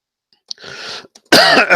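A soft breathy rasp, then a loud, close burst of throat clearing or coughing, isolated with no speech.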